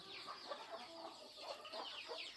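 Free-range village hens cluck steadily among a flock, with thin high peeping from chicks scattered throughout, a busy close-up farmyard chatter with no voices.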